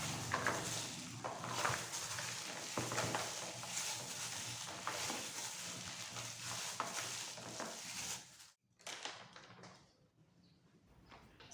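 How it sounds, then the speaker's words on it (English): Dried cranberries are worked into bread dough by hand, producing steady soft squelching and slapping kneads close up for several seconds before stopping abruptly, followed by a quiet tail. "mix well with your hand."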